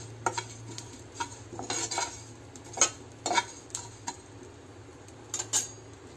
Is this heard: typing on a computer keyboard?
no